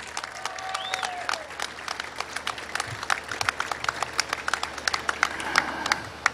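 Sustained applause from a community gathering honoring law enforcement and first responders, a dense field of many hands clapping with some individual claps standing out, continuous and fairly close.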